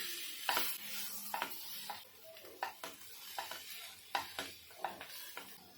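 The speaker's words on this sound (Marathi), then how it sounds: "आता आपण बटाटाच ना स्मॅश करून टाकूया भाजी ना मिक्स करून घेऊया आपण" Boiled potatoes being mashed and stirred into a spiced filling for vada pav in a home kitchen, a steady run of soft scraping and squishing knocks with faint sizzle beneath, no talk.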